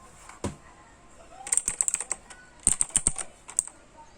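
Typing on a Gigaware Leaven K880 mechanical keyboard: a single early click, then two quick bursts of crisp, clacky keystrokes, close and clear with no voices.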